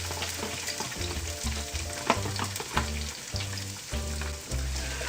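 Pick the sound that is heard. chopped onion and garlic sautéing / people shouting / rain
chopped onion and garlic sautéing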